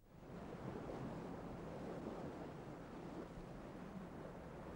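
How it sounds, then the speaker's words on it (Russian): Storm-force wind of about 65 knots and heavy waves off Cape Horn, heard from aboard the racing yacht Hetman Sahaidachny in the Whitbread Round the World Race: a steady, dense roar of wind and surging sea with no voices. "Жесткий шторм, переходящий в ураган, скорость ветра достигает 65 узлов"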